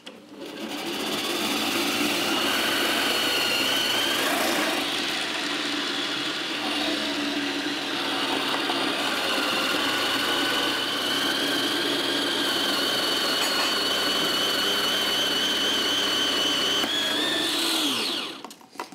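A kitchen food processor shreds vegetables into thin strips with a continuous whirring motor drone and a high whine, close and steady for nearly twenty seconds before spinning down at the end.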